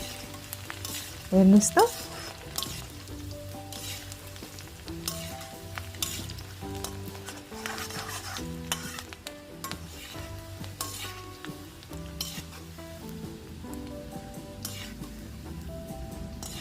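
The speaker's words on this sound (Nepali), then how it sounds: "त्यसपछि चप गरेको लसुनलाई राख्छौँ। यसलाई मजाले रातो रातो हुने गरेर हामीले फ्राई गर्नुपर्छ।" Chopped garlic fries in a pan for street-style egg chowmein, a steady crackling sizzle with a sharp clatter of utensils early on and scattered light stirring scrapes; a voice speaks briefly.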